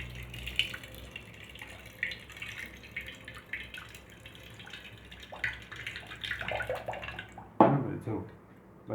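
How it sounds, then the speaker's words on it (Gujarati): Water poured over ice trickles and drips steadily nearby as the ice melts, with splashes growing louder toward the end while someone talks over it. "ઉપરથી હું જો પાણી પસાર કરું તો એ બરફ છે એ પીગળવા લાગે."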